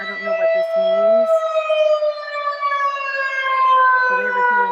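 An emergency siren wails at night near Lake Tahoma Dam, a long steady rising-and-falling tone carrying loudly and continuously, with faint overlapping harmonics and no voices over it.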